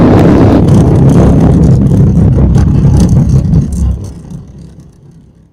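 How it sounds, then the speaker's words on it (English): SpaceX Falcon rocket engines roar at lift-off, a loud, broad, rumbling blast that holds steady for several seconds and then fades as the rocket climbs away. "Engines full power. And we'll lift off. Go SpaceX, go Falcon."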